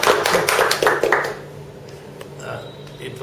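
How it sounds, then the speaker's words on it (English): Applause for a woman at a leadership skills training program: a brief burst of clapping hands in the opening second and a half, fading into quieter room sound. "Round of applause for her."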